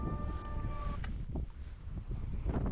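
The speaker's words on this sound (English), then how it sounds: "the wind is blowing too crazy" Strong wind buffets a kayak out at sea, a steady loud rush with microphone rumble and gusts, with a brief tonal hum fading near the start and no talking.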